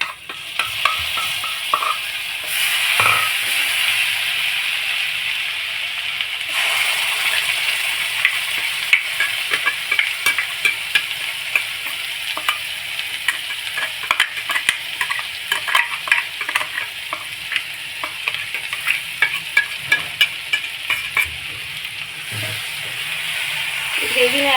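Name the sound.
stirring paneer korma gravy with spices in a pan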